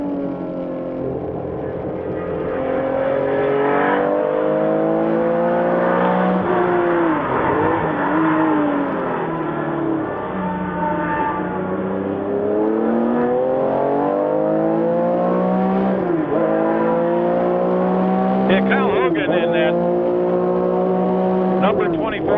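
Vintage race cars, including Porsche 935 and 911 RSR types, accelerate away together at a green-flag restart, engines rising and falling in long overlapping revving sweeps, loud throughout with a commentator talking over them.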